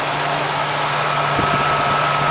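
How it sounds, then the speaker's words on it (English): A 1993 Ford Ranger XLT with a Vulcan V6 idles nearby, a steady, even low hum with a faint mechanical vibration and one brief thump partway through; no voices. "this has the Vulcan V6"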